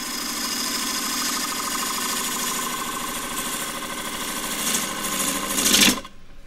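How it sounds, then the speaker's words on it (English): An asymmetric 3/8 bowl gouge cuts wood on a lathe while a square dish is turned, giving a steady loud buzzing drone with a rhythmic rattle that builds slightly before cutting off abruptly near the end. "now I'm going to use the 3/8 bowl gouge, asymmetric bowl gouge"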